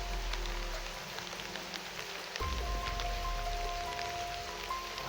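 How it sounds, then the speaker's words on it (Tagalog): Rain falls steadily outdoors, a soft, faint, even patter of drops with a low rumble beneath and no speech. "So nabutan pa kami ng ulan."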